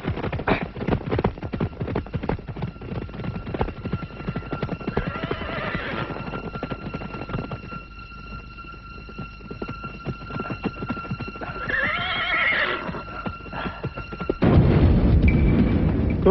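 Horses gallop with steady rapid hoofbeats and whinny loudly in a period film battle scene set in Ponorogo in 1496, with a louder rumbling burst near the end.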